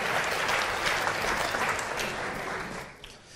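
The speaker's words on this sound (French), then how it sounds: "avec Jean-Pierre Garnier-Mallet, qu'on applaudit bien fort" Audience applause welcoming a speaker at a French-language conference on time and the unexplained, dense and steady from the start, then thinning toward the end.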